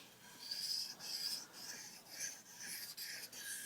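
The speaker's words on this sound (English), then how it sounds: "Just touching up. Love this 306 ultra fine stone." A knife blade being honed on an ultra fine sharpening stone, quiet rhythmic rasping strokes in a steady back-and-forth pattern, faint and close, with no voices.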